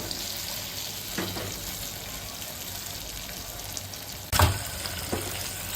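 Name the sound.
potatoes being pan-roasted in oil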